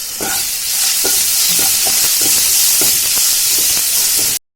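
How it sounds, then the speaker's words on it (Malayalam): Small onions fry with salt in a pan, giving a steady bright sizzle with repeated soft stirring scrapes, close and continuous until an abrupt stop. "അതിൽ നന്നായി ഒന്ന് ബ്രൗൺ കളറാണ് വരെ വറുത്തെടുക്കാം"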